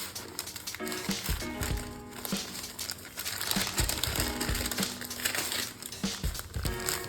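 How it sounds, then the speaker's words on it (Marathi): A paneer kathi roll folded and wrapped in paper: close, continuous crinkling and rustling of paper with soft handling thumps, over faint background hum. "आता आपण याला फोल्ड करून घेऊया आणि पेपरमध्ये आपण हा टाकून घ्यायचा आहे या पद्धतीने"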